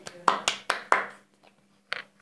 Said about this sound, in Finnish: Ja aplodit.